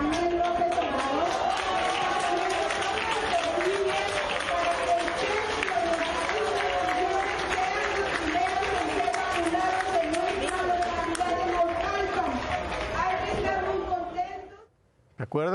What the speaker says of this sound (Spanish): Un aplauso también a nuestro presidente Andrés Manuel López Obrador.